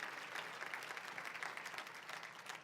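Church congregation applauding in praise, a steady, faint wash of clapping heard from a distance with no voices on top.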